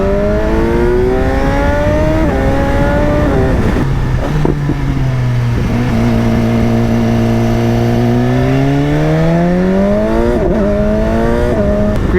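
A BMW S1000XR motorcycle with an HP Corse exhaust and the dB killer removed revs loudly and close, climbing and dropping in pitch through several sustained throttle sweeps with a deep, raspy tone.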